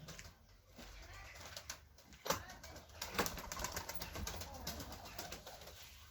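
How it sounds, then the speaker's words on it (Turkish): Domestic pigeons are released and flap their wings in quick bursts, with a few sharp flutters standing out over a low background hum and faint voices. "Şimdi bir kuşlarımızı salalım dışarı."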